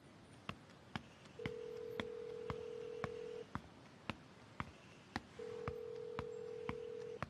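A telephone rings unanswered, two long steady ring tones repeating with pauses between them, set against faint ticking clicks and low room noise, with no one picking up.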